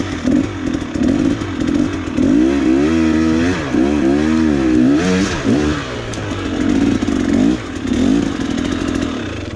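A KTM hard-enduro motorcycle engine revs hard and close while climbing a steep, rough trail, its pitch surging and dropping in repeated bursts over rattling clatter, with no talk.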